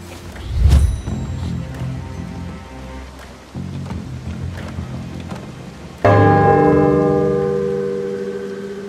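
Temple bell in the Shadow Tactics video game, two deep resonant strikes, the second loud and close with a long ringing decay, over a soft rain-like ambient backdrop.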